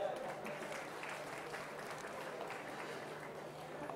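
Guests at a business launch function for a trade centre clap in a steady, somewhat distant round of applause, fairly soft and even throughout.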